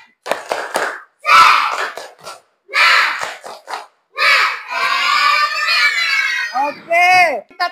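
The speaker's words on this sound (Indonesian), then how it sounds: "Tepuk semangat." An Indonesian school class performs the tepuk semangat spirit-clap chant, with bursts of rhythmic hand claps alternating with loud shouted group chanting from the children in a classroom, ending in a rising whooping cry.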